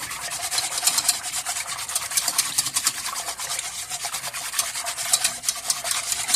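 Mixture being whisked in a bowl while cooking Chinese steamed dumplings, a steady close scraping and swishing that runs continuously throughout at fairly loud level.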